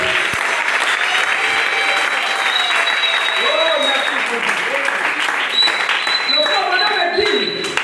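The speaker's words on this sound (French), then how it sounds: "Acclame le Seigneur Jésus." A church congregation bursts into sustained loud applause, dense clapping filling the room throughout with cheering voices and shouts mixed in.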